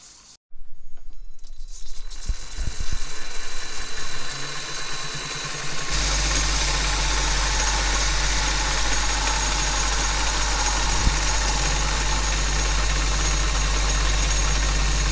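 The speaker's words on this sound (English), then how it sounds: "let's go move our way over to the lathe and cut these down a little bit" A few quiet knocks and handling sounds come first. Then a lathe motor starts and runs with a steady, loud hum while a snow bike wheel, held in a small aluminum fixture, is cut down.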